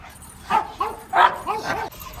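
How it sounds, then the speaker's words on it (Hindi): A Labrador barking and yapping at a gate, several short sharp barks and whiny yelps in an uneven burst, fairly close and moderately loud. "कोई भी ये गेट के पास आ जा रहा है तो ये गुर्रा रहा है"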